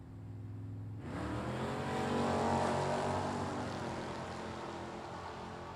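A Mopar-powered Nostalgia Superstocker and an Oldsmobile Delta 88 launching down a drag strip, engines bursting in with a loud roar that swells and holds steady.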